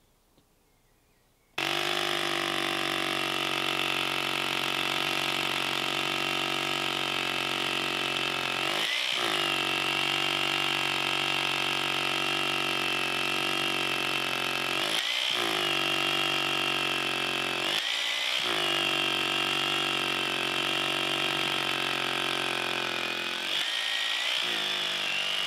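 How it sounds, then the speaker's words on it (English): A loud, steady power drill whines continuously for over twenty seconds drilling holes in formwork, with a few brief pauses where the motor dips before spinning back up. "So now we'll move on to drilling holes."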